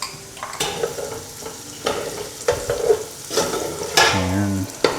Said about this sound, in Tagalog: Pag na golden brown na yan guys, ilagay naman natin yung onion. Then mix lang ulit natin.